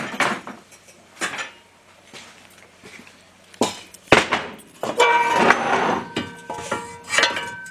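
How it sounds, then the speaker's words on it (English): Metal gearbox parts clattering and clanking as the gearbox is picked up and handled, with sharp knocks and rattles growing busier toward the end. "Hang on, let me grab the gearbox."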